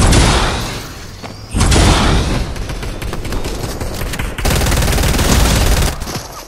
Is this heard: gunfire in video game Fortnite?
yes